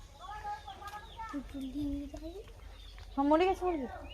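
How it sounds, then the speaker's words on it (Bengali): Village chickens and roosters cluck and call close by in short bursts, with a few longer drawn-out notes and a voice speaking faintly in the background. "বড় অনেক বড় বড় মুরগি আছে সেটাই তোমাদের দেখাবো চলো"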